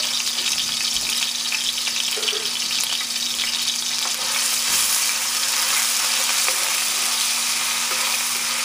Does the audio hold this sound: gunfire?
no